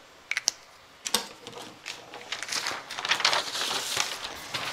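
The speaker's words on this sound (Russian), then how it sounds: "Вот я его вырезаю." Scissors cut a fabric pocket for a lined sundress, giving quick crisp snips and rustling of cloth, close and fairly quiet, with no talk.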